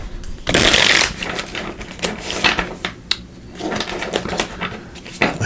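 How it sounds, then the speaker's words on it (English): A deck of everyday tarot cards is shuffled by hand, a loud riffling burst at the start followed by repeated softer flicks and slaps of cards, close and with no talking. "We're going to shuffle these everyday tarot"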